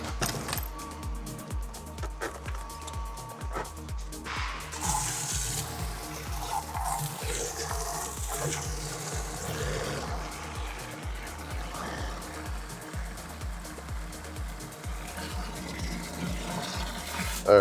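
Water runs steadily from a hose into a Brewzilla brewing kettle, a continuous close splashing and hiss that keeps going alongside a rhythmic pulsing thump.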